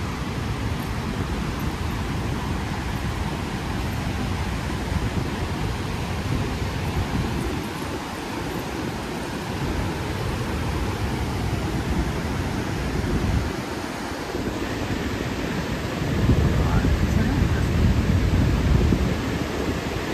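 Niagara Falls roars as a dense, steady broadband rush of fast water, loud and continuous with a slight swell near the end, no voices.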